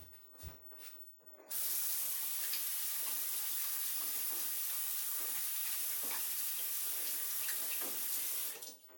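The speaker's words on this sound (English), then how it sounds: "I'm going to rinse off my hands." After a few soft clicks and knocks, a bathroom tap opens and water runs steadily and close by as hands are rinsed, a broad even splashing hiss that continues until it stops near the end, with no talking.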